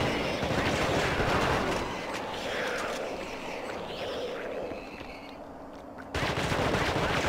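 Rapid bursts of gunfire from the survival horror video game The Thing rattle loudly and almost continuously, with a brief lull before the shooting resumes.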